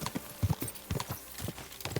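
Horse hooves galloping in the video game Kingdom Come: Deliverance II, a quick rhythmic run of close, crisp hoof thuds repeating steadily, fairly quiet, with no talking.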